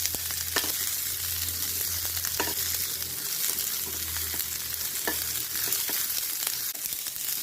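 Onions and lentils roast in a pan with a steady sizzle, and a spatula scrapes and clicks at irregular moments. A low hum runs underneath.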